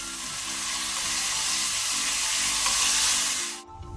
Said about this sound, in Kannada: ಈಗ ನಾವು ಈರುಳ್ಳಿಯನ್ನು ಒಳ್ಳೆ ರೀತಿ ಫ್ರೈ ಮಾಡಬೇಕು.